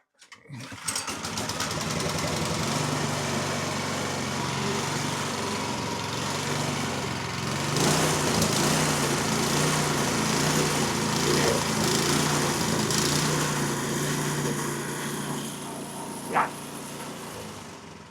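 A Craftsman snow blower's small gasoline engine runs steadily after priming and choking, a loud, continuous buzzing drone that holds for the whole stretch, with a brief louder knock near the end and no talking.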